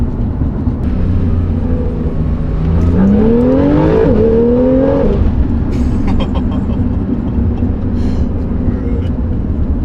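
Tuned turbocharged Porsche 911 engine pulling hard under acceleration, a loud steady roar with rising tone as boost builds, heard from inside the car.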